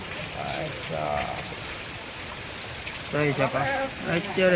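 Steady rain patters over a wide hiss, continuous throughout, while people talk over it.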